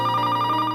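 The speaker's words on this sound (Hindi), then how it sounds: "फोन की घंटी।" A telephone rings with a brief steady electronic tone, close and clear, heard alone.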